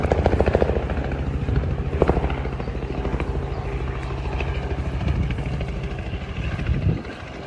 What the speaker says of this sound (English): That's the third time that helicopter has passed, and it's extremely low.